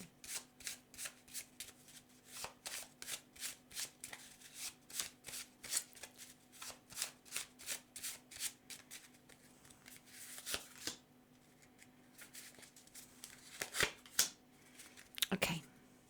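Oracle cards being shuffled by hand, a steady run of quick riffling flicks repeated in a regular rhythm, close and fairly quiet, ending with a few sharper card slaps.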